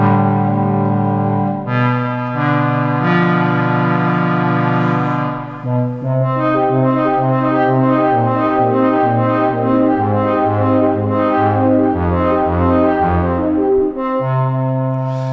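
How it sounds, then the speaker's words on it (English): A synth arpeggiator plays fast repeating note patterns with a buzzy, effected tone over sustained bass notes, loud and continuous, shifting chords every couple of seconds. "The first one is an arpeggiator that sounds something like this."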